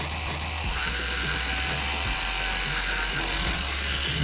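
A small motor drives a larger motor used as a generator, and the two make a steady, close mechanical whir with a ratcheting, gear-like buzz that continues without a break.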